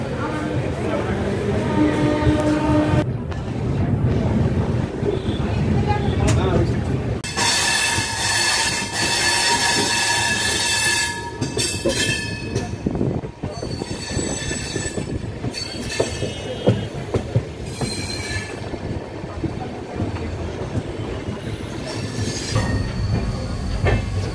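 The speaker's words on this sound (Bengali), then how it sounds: "সাঁতরাগাছি থেকে আমাদের ট্রেন 1 নম্বর প্ল্যাটফর্ম থেকে একদম কারেক্ট টাইম 9:35-এই ছেড়ে বেরিয়ে চলেছে।" Passenger train pulling out of platform 1 at Santragachi and picking up speed, heard from inside a coach: a continuous rumble with wheel squeal and clickety-clack, plus scattered voices.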